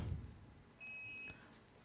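Single electronic buzzer beep at a quiz for lawyers, a short steady tone about half a second long, moderately loud over a quiet room with faint low rumble before it.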